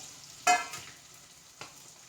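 Sliced onion and green chilli hit hot oil in a pan with a sudden short sizzle that fades into a faint, quiet frying hiss, followed by a softer second burst.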